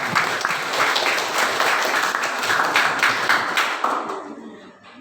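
Audience applause for the two candidate pairs at a high school student council (OSIS) election debate, a steady broadband patter of many hands clapping that fades away over the final second.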